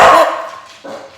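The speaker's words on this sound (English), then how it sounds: "That's the dogs." Dogs bark nearby, one sharp loud bark that trails off, then a second, quieter bark shortly after.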